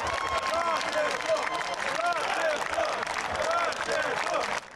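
Football fans in a stadium crowd applaud the city team, sustained clapping blended with cheering voices and crowd noise that runs continuously before cutting off at the end.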